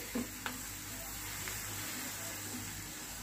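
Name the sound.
crushed garlic frying in hot oil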